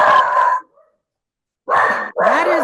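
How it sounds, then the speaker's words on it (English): A big guard dog barks three times at close range, one loud bark, a pause of silence, then two quick barks in a row. "That is my dog, Dumas, named after Alexander Dumas"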